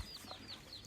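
Light Sussex and Jersey Giant chickens on a rural homestead give a few soft, quiet clucks and short high calls in quick succession, faint against a low background.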